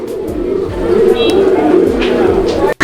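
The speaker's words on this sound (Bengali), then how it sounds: "কবুতরগুলো দেখেন আপনারা" Pigeons cooing close by in soft, repeated low throaty calls, with faint background noise.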